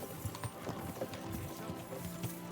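Horse hooves clip-clopping at a steady walking rhythm in Kingdom Come: Deliverance 2, soft repeated thuds fairly close under a low ambient game backdrop, with no talking.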